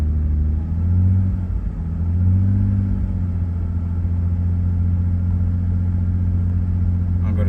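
A 1996 Nissan Skyline R33 engine held at steady revs near 2000 rpm, a loud, close, low, even idle-like drone with a slight swell in the first seconds and no talk.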